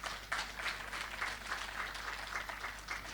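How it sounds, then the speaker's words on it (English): An audience at the Jamaica Agricultural Society's Phenomenal Women Awards applauds Ms. Holness, a steady patter of many clapping hands, moderately distant and even throughout. "Let's applaud Ms. Holness."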